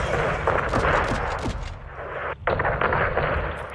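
An airstrike hammers a greenhouse in Call of Duty Modern Warfare 2, a loud, dense barrage of rapid booming blasts and rattling gunfire that rolls on without pause, with only a brief dip near the middle.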